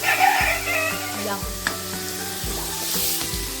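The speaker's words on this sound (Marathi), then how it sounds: "आता इथे आपण ड्रायफ्रुट्स आणि पायनॅपल कॅरेमलाइज व्हायला टाकून दिले." Pineapple and dry fruits caramelize in a hot pan with loud, close sizzling and frying, punctuated by repeated scrapes and stirs of a spoon against the pan.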